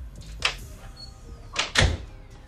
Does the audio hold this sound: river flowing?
no